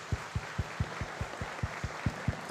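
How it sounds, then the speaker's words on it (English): Steady, evenly spaced claps from an audience giving a standing ovation at a Catholic private schools association gathering, a regular rhythmic beat of about four claps per second, fairly quiet and distant, with no talking. "Just continuous claps."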